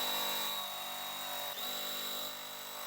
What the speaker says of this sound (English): The next thing I'm going to do is just sew a 1/4 inch away from the center.